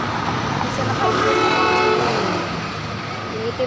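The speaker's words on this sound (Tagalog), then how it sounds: "Yung itim na kotse." A black car drives past at close range, its engine rising in a steady sweep across a few seconds, with continuous street noise and a voice talking over it.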